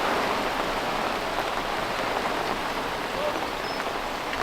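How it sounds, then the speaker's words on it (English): Heavy rain pours down steadily during a summer carp fishing session at Coking Farm, a dense, continuous hiss of drops on surfaces with no break in intensity throughout. "I don't envy him in that rain. Horrendous weather."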